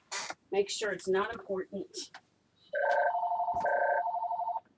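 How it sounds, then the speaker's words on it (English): A telephone rings with a steady electronic trill, close and clear, right after someone speaks briefly indoors. "sorry about the ringing phone."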